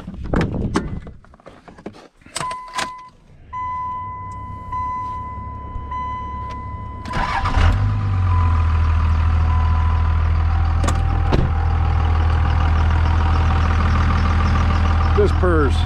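A diesel truck engine cranks and starts, then settles into a loud, steady low rumble of idling, with a few clicks and knocks before it catches.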